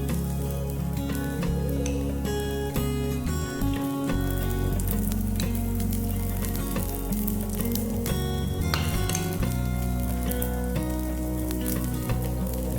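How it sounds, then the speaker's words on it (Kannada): Oil sizzles steadily on masala paddu cooking in a covered pan, a continuous frying hiss that sits under loud, busy background music. "ಇವಾಗ ಮುಚ್ಚಿರೋ ಪ್ಲೇಟ್ ಅನ್ನ ತೆಗೆದು ಪಡ್ಡು ಮೇಲೆ ಎಣ್ಣೆ ಹಾಕೊಳ್ಳೋಣ ಸ್ವಲ್ಪ"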